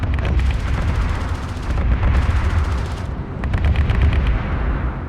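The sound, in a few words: air-to-ground fire support in Homeworld: Deserts of Kharak video game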